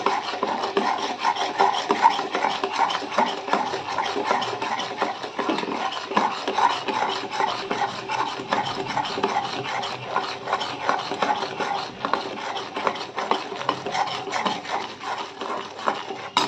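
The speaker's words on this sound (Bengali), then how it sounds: "ক্যারামেলটা তৈরি করতে গেলে সমানে এটাকে আমাকে নাড়তে হবে যাতে চিনিটা তলায় ধরে নেয়" Caramel sugar being stirred steadily in a pan over low to medium gas, a continuous scraping, rasping rub of the utensil against the pan bottom, fairly loud and close, with no talking.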